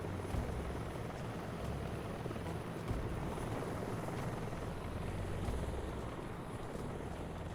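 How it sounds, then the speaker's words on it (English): A helicopter in the Metal Gear Solid Delta video game drones with a continuous rotor chop and broad roaring wash, steady and fairly loud across the whole stretch, with no talking. "Got a helicopter hassling us."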